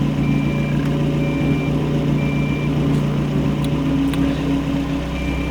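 Car engine idling at around 900 rpm after a motor and turbo swap, a steady, loud low rumble with a constant hum, intermittent high beeping tones and a few faint clicks.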